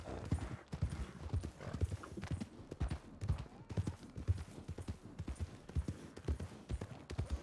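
Horse hooves clip-clop steadily in Red Dead Redemption, a brisk, regular rhythm of mid-level thuds running throughout with a brief whinny-like touch and no talk over it.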